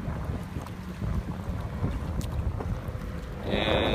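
Wind and waves beat against an old river levee on the Sacramento River near the Benicia Bridge, a steady roar of wind buffeting the microphone over churning water that swells louder at the end.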